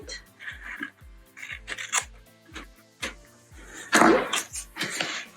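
Scissors snip through paper while a pull tab is trimmed for a bullet journal page, a run of short close crisp cuts and rustles, with a louder crunchy cluster near the end.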